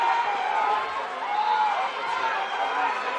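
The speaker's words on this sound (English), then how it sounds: "Crowd cheering" A crowd at a state high school girls' wrestling tournament fills the arena with a steady, dense roar of cheering and chatter, continuous and fairly loud throughout.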